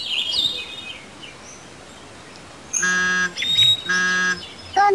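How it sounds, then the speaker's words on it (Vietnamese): Raggiana bird of paradise calls: two loud, harsh, harmonic bursts a little under a second long, following a quieter stretch with faint distant chirps in the background. "Rajiana, bird of paradise."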